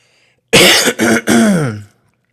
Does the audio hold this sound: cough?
yes